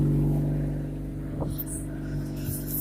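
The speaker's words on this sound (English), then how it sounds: "It's gonna be a little loud for a while because it doesn't have a muffler on it anymore." A car with no muffler runs loud and steady while raised on a jack, its deep, raw exhaust drone constant and close throughout.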